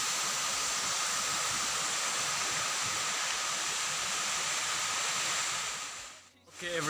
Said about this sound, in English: This Kompol waterfall with height 20 meters